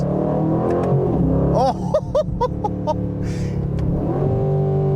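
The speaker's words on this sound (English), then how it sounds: "it's got the cracks and the pops from the exhaust" A 2025 Aston Martin Vantage revs up close, its engine droning loudly before the exhaust fires off a quick run of sharp cracks and pops that settle back into a humming idle.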